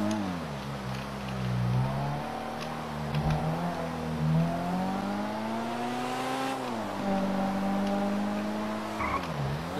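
A Nissan 370Z Nismo engine in GTA V revs up and down steadily over the whole stretch, with rising and falling pitch and brief tire noise, close and prominent with no talk.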